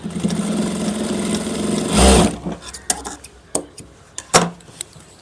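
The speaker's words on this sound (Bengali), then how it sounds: "নেওয়ার পরে এখানটায় পাক্কা সেলাই করে দিবেন" A sewing machine stitches the back pocket of a pair of trousers, whirring steadily for about two seconds before giving way to a few sharp clatters and knocks of handling.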